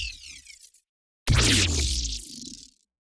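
Synth tones made in Radium sound design software with a Roli Lightpad Block M: a short, quieter swept tone, a brief gap, then a louder bright, textured tone with low body that sustains and fades out, alone with no voices.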